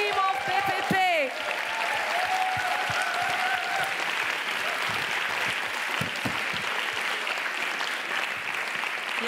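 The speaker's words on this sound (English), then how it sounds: "Thanks to the team of the Gorki, applause, and to the team of BPP." Sustained audience applause fills a theatre closing ceremony in Berlin, dense steady clapping from a large crowd lasting throughout, with a brief voice at the very start before the clapping takes over.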